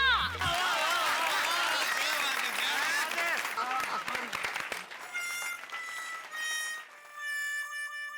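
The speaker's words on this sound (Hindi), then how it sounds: "तालियां" Crowd applause at a Ganesh festival gathering in the Gokuldham Society, dense and steady for several seconds before fading out under a sustained musical tone.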